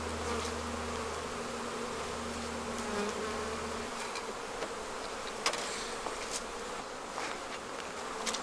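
Honey bees buzz loudly and steadily in an open beehive during fall beekeeping, a dense close hum with low droning early on and small knocks and clicks over the swarm sound.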